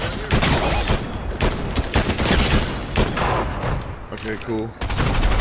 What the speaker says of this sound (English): Wait, is someone else shooting?